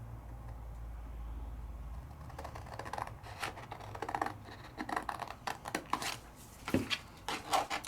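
Scissors cutting out paper close by, a quiet, irregular series of crisp snips and rustles following a soft low hum at the start.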